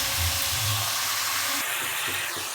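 Chicken pieces for chicken thokku sautéing in a pan give a steady, close broadband hiss and sizzle with low rumbling underneath, continuous throughout with no talking.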